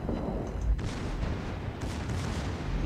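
Battleship main guns firing in a naval video game boom out in two heavy, rumbling blasts about a second apart, over a constant low background roar.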